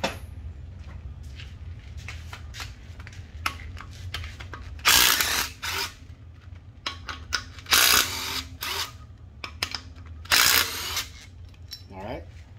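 A power tool drives 14 mm bolts out of a Honda K-series K20/K24 cylinder head. Three loud, sharp bursts of a few seconds each stand out close by over a steady low hum, with small clicks and clatter between them.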